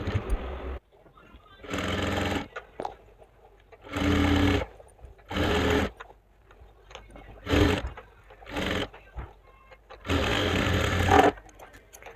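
Sewing machine stitching palazzo pants along a marked seam line, running in several bursts of a few seconds each with short pauses between, fairly close and clear.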